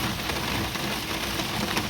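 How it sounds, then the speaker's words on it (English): Rain falling outdoors near a parked car, a dense, even hiss of drops with no breaks, steady and fairly close. "It just started to rain."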